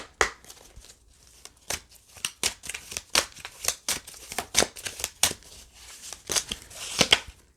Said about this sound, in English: So let me shuffle that again.